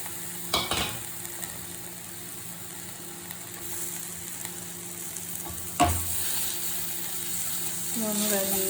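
Prawn roast masala with tomato and spice powders stirred and fried in a pan: a steady low sizzle with a couple of sharp spoon scrapes and a brighter crackle building near the end.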